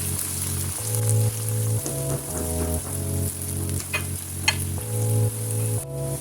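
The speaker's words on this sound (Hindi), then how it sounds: "अब हम इसमें साथ ही टमाटर ऐड कर लेंगे और हरी मिर्चें।" Tomatoes and green chillies fry in a pan for aloo palak, giving a steady crackling sizzle with rain-like spatter and occasional sharper pops throughout. No talking.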